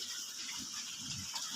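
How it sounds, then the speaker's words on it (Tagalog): Two-month-old domestic pigs in a pen, soft low grunts and snuffles repeating close by under steady background hiss. "2 months old na mga alagang baboy. 26 heads."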